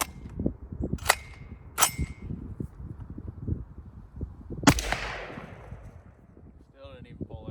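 A BCA rifle in 8.6 Blackout fires a few sharp, close shots with metallic clanks, followed by a louder blast with a ringing tail, as someone talks quietly between them.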